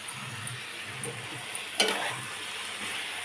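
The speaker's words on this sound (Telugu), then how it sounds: "అరటికాయ ముక్కలు వేసుకుని కలిపేసుకుని మూత పెట్టుకుని మగ్గనిద్దాం." Raw banana pieces stirred in a pan: a soft, steady sizzle with faint scraping strokes and one sharper clink partway through, close and moderately quiet, with no voices.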